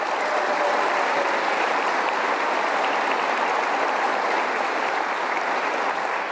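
An audience at the West Virginia State of the State address applauds in a dense, even wash of clapping that stays loud and steady throughout, with no speech over it.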